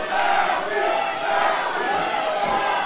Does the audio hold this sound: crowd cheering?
yes